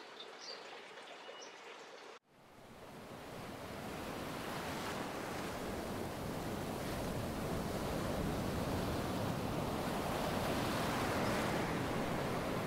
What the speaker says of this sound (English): to the sound of the ocean waves